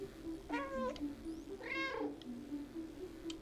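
A cat in the video game Stray meows twice at a window, each a drawn-out, clear call standing close and alone over a steady low background hum.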